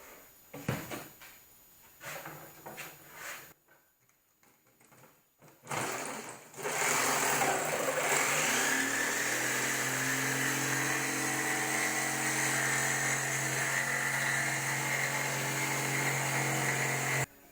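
A power tool cuts a window template piece for a cargo trailer toy hauler conversion, with a few short bursts and clatter at first, then a loud, steady, continuous whine running for about ten seconds before it stops.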